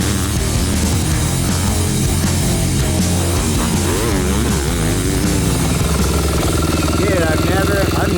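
A factory Yamaha YZ250F four-stroke motocross bike running loud and close, its engine droning steadily with shifting revs, and a rider talks over the noise.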